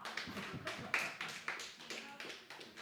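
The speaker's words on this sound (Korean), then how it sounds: "자, 박수." A church congregation claps during a Sunday sermon, a short run of fairly quiet, slightly uneven hand claps at a steady pace.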